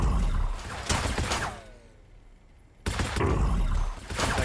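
Bursts of gunfire from a Warhammer 40,000 video game battle, aimed at a Dreadnought, loud and dense, with a short quiet gap before the firing resumes.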